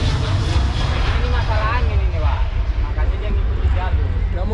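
Loud roar of an airplane on the runway at Kualanamu Airport, a broad steady engine rumble filling the scene, with people talking faintly underneath.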